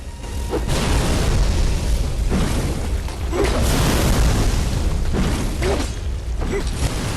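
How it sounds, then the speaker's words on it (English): A cannon fired in the video game Bloodborne booms heavily amid dense, continuous rumbling game noise, with repeated low blasts and bursts spread across the stretch. "I'm about to blow one of them up with the cannon."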